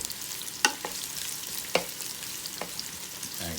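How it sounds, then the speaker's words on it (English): Purple onions saute in a Power XL cooker with a soft, constant sizzle, punctuated by a few sharp utensil clacks and stirring knocks up close. "I'm putting my purple onions in here, and I'm going to just saute them up a little."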